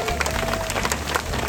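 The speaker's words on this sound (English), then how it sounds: "Let's applaud our model." An outdoor fashion-show audience at the Sawdust Art Festival in Laguna Beach claps steadily for a model on the runway, a dense, fairly faint crackle of many hands that carries through the clip without a pause.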